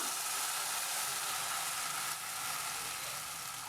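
Grated coconut frying in oil in a pan over a medium flame, stirred, giving a steady, close, continuous sizzle that stays fairly even throughout with no talking.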